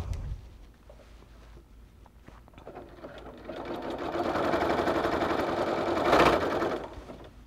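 Sewing machine running a programmed decorative stitch, starting quietly and building to a steady, loud, fast mechanical whir and rattle close by, with no talking.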